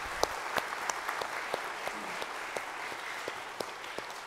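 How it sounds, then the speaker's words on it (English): Steady applause from a church congregation for the choir, a dense patter of many hands clapping with no voices, holding at an even level throughout. "Let's give them a big round of applause."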